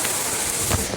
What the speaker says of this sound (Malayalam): നല്ല മഴയാണ്, ഒച്ച വെക്കുന്നതൊന്നും അറിയത്തില്ല, ഭയങ്കര മഴയാണ്.